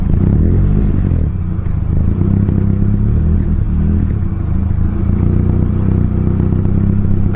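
A Mitsubishi Lancer CK4 engine with a faulty air flow sensor idles roughly with a low, uneven rumble and rattling clatter, its RPM swinging and pitch wavering throughout.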